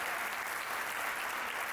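Applause from a poetry recital audience at a Hindi kavi sammelan, a dense, steady wash of many hands clapping at once, loud and continuous with no voices over it.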